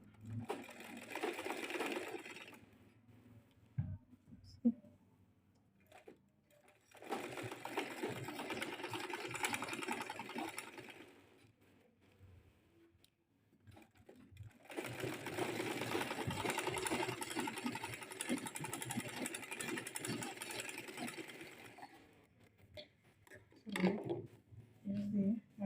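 A sewing machine stitches a seam on a Victorian off-shoulder corset with raglan sleeves, running in three separate steady whirring bursts separated by quiet pauses, close and moderately loud.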